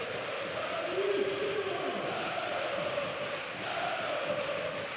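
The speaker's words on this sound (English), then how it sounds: "Listen to this crowd. They are going nuts tonight." A packed arena crowd roars at a FIBA Europe basketball semi-final between Anwil Wloclawek and Karhu Basket, a sustained, loud wash of cheering and whistles with swelling shouts and an announcer's voice partly under it.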